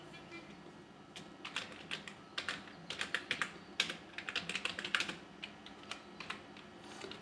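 Steady keystrokes on a computer keyboard type out an address in quick irregular bursts with short pauses, close and crisp over faint room noise.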